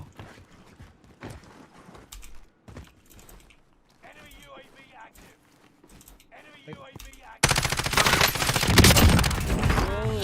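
Automatic gunfire from a RAM-7 assault rifle in the Warzone Pacific video game, a loud dense burst near the end that follows quieter game sounds with scattered footsteps and clicks.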